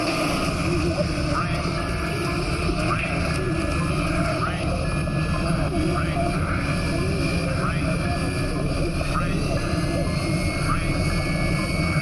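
An airplane flying through a volcanic ash cloud, a loud, continuous engine roar and rushing wind that stays steady throughout, with a voice heard beneath it.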